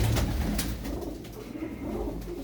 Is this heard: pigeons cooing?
yes